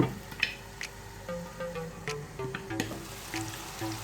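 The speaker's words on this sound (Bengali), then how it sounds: "একটু নেড়ে দিচ্ছি ঢাকনা দিয়ে থেকে পেঁয়াজটাকে একটু নরম করে নিচ্ছি" Onions frying and sizzling in a pan for a Bengali fish curry, with intermittent scraping and stirring clicks over a steady close hiss, no talking.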